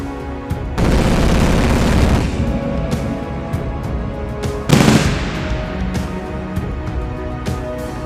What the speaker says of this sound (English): When the Oerlikon Mk3 rifle is fired